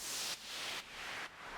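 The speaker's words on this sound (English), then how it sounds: "I've added this white noise" A white noise effect in a stutter house track plays as three loud, hissing bursts of static-like noise. Each burst sweeps brightly and then cuts off abruptly in a quick rhythmic pattern, with no talking.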